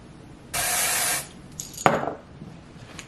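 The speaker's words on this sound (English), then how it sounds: "This is Light Warm Brown by Red by Kiss Lace Tinting Spray." A short hiss of Kiss Red lace tinting spray in Light Warm Brown lasting about half a second, followed by a few light clicks and handling noises.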